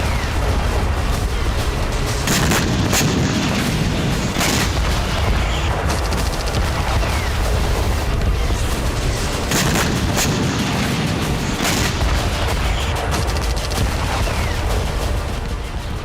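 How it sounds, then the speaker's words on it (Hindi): Artillery fire during a Russian Navy Pacific Fleet exercise with warships and submarines: a dense, continuous barrage of booms and blasts, loud and heavy throughout, with several sharper reports standing out. "रशियन नेवी ने दर्जनों की तादाद में जंगी बेड़ों और साइलेंट किलर यानी सबमरीन के जरिए बारूदी कोहराम मचाया है"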